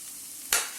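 Grated ginger and garlic hit a hot pan for a quick fry, giving one short, bright sizzle that flares up and fades within a fraction of a second over a quiet background.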